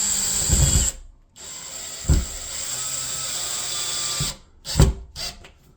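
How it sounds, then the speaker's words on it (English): A power drill drives a fastener into a wall while hanging a picture frame, its steady whine running almost continuously with brief stops and a few clicking thumps of the bit seating, close and alone. "we're gonna put our fastener into the wall here"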